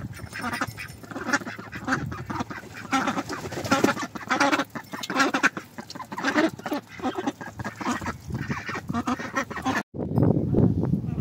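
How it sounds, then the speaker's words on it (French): Ducks beside a backyard chicken coop quack and honk in a lively, continuous chorus, close to the microphone, with a brief cut near the end before the quacking resumes. "Et bonjour les canards"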